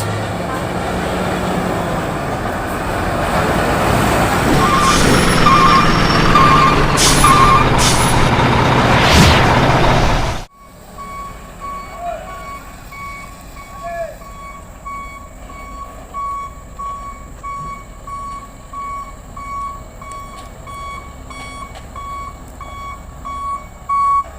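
Scania truck hauling a giant PC1250SP excavator, a loud rumbling engine with hissing air brakes and reversing beeps, then an abrupt drop to quieter road noise with a steady tonal beep, someone talking at times.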